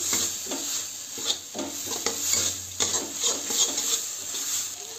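Cabbage curry spice mix with red chilli powder and a splash of water is stirred in a pan over a medium flame, giving repeated scraping strokes over a soft, continuous sizzle, near and clear.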